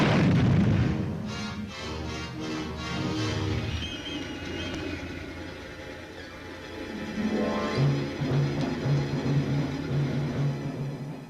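Tank gun of the Canadian Armored Corps firing on a range, opening with a heavy booming blast that rolls away into a long, fading rumble, followed by lower mechanical sounds.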